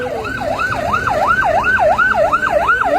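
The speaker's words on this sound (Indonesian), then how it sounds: "ini merupakan ambulan." Ambulance siren wailing in a steady, repeating rise-and-fall sweep, loud and close over road traffic noise near the Suramadu bridge approach in Surabaya, carrying a patient to hospital.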